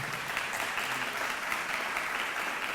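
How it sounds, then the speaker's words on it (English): Audience applause at a town hall evening on Yale's campus, a steady, dense wash of clapping that sounds somewhat distant and fairly soft throughout. "Can you all give yourself a round of applause?"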